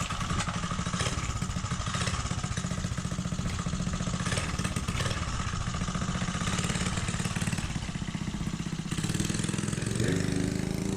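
A Mega Moto 80 minibike engine idles steadily nearby with a continuous low, throbbing putter and mechanical clatter, loud throughout and without talk, its note shifting slightly near the end.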